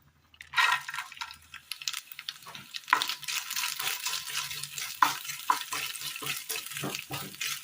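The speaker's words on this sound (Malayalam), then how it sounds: "അടുപ്പത്ത് പാൻ വെച്ച് കൊടുത്ത് അല്പം നെയ്യ് ഒഴിച്ചു കൊടുക്കാം ഇതിലേക്ക് കൊത്തി വെച്ചിരിക്കുന്ന തേങ്ങ ഇട്ട് കൊടുക്കാം" Chopped coconut is fried in ghee in a pan and gives a close, continuous sizzle with crackling pops. It starts after a brief quiet moment and holds steady.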